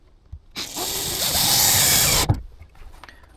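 A power drill drives a screw into an electrical panel in a storage cabin: a short close whirring burst about two seconds long, rising slightly as it bites, ending with a sharp click.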